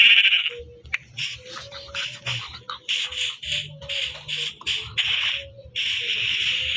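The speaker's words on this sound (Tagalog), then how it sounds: "may nakita na tayong kambing dito sa taas." Goats on a hillside bleating repeatedly, several loud nasal calls in quick succession, close by, with short gaps between them and no talking.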